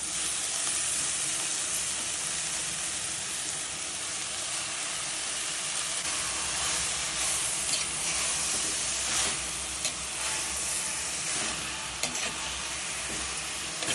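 Red ponnanganni greens sauté in a pan with tomato and a pinch of asafoetida, giving a steady hissing sizzle broken by stirring scrapes, close up and unbroken, no speech.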